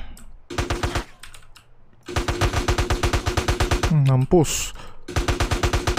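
Automatic gunfire from the video game GTA San Andreas sounds in loud, rapid bursts of shots separated by short pauses, with a brief vocal sound and a short squeal between bursts.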